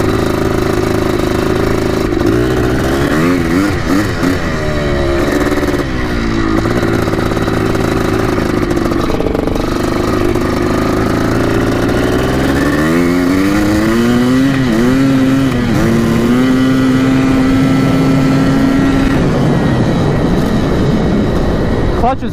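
A Yamaha YZ 490 dirt bike engine revs hard and loud, the pitch climbing and falling through repeated throttle sweeps, with a long steady high rev near the end, a continuous close roar.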